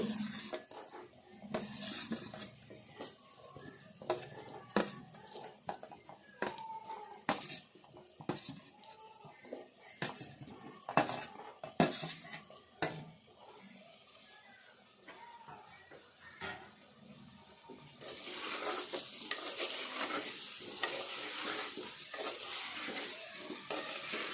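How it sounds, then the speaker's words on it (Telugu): Potato pieces fry with onions in a pan for a potato pulusu, heard mostly as repeated spoon clatter and scraping against the pan, then a denser, brighter sizzle toward the end. "ఈ ఆలుగడ్డ ముక్కలు వేసుకుందాము ఇవి కూడా వేగాలి కదా ఉల్లిపాయతో పాటు"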